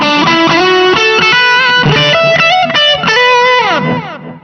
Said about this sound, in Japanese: さらにテープエコーでディレイがね、ディレイかかってますよね。